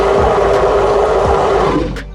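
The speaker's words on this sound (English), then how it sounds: "Here's the call." A dinosaur call from the video game Dinosaur Simulator, a loud, sustained, noisy cry held for about two seconds before fading out.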